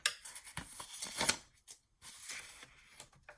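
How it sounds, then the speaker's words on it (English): Paper is scored for a junk journal mini album, with quiet, close scraping and rubbing strokes in short bursts and brief pauses between them. "I'm just scoring the 4-inch side at 1/2 inch."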